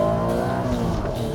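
A first-generation Honda NSX engine revs high and loud, a dense layered harmonic wail that holds steady through the brief moment, compared to a Formula One car.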